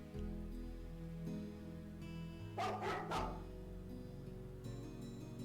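A dog in the video game Heroine's Quest gives a short burst of yips and barks in the middle, set over a quiet looping musical background.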